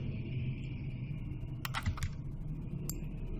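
Computer keyboard keys tapped a few times in quick succession, sharp short clicks standing out over a low steady room hum, close and fairly quiet.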